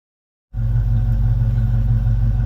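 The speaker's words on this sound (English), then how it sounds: "she's warming up, guys. She's running well. The Mustang" A Ford Mustang's engine starts after half a second of silence and settles into a steady, loud, close-up idle while warming up on a record-cold day, with a deep, even rumble and no talking.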